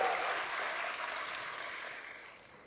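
Congregation applause in a church service fills the space as a dense, moderately faint wash of clapping that slowly fades away.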